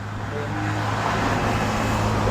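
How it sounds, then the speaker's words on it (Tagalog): Road traffic with cars passing in Casiguran, a steady, fairly loud hum of engines and tire noise that swells gently and continues without pause. "Mga sasakyan."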